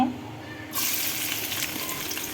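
Chopped onions hit hot oil in a pan, starting a shrimp dish; a steady, close, bright frying sizzle surges in after a quiet start and holds loud to the end.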